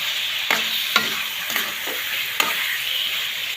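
Pork liver sizzles with garlic and onion in a pan, with a steady frying hiss broken by regular spatula scrapes and taps about every half second. Nobody speaks.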